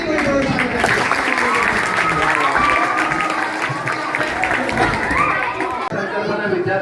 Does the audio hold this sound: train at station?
no